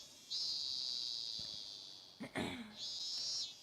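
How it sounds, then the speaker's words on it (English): Stock cicada calls in a summery video game nature scene, two long steady buzzing drones, the first sustained for about two seconds and the second returning near the end, with a brief soft thump between them and no talk. "I love the stock cicada sounds."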